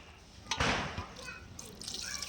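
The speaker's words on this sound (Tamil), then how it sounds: "நம்ம கறி தண்ணி தான் ஊற்றுறோம் பாருங்கள்" Water is poured over mutton pieces in a large pot on a big stove while making Diwali vadi biryani. It gives a close, splashy gush lasting about two seconds, with a voice briefly over it.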